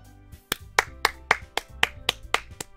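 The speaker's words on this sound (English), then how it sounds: "The four of us applaud." Light applause from four characters in the game Doki Doki Literature Club, about ten crisp, evenly spaced hand claps over a low sustained musical background.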